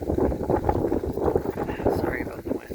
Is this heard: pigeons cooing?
no